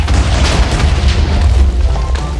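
A Minecraft explosion, most likely a creeper blowing up, gives a loud, sustained booming rumble with heavy low end that fills the whole stretch, with no one talking over it.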